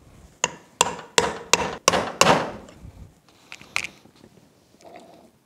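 A Yamaha F225 outboard's prop shaft seal is driven in with a series of about six sharp, close hammer taps in quick rhythm, followed by a few lighter scattered knocks.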